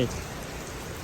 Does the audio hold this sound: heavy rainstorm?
yes